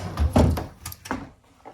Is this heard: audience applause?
no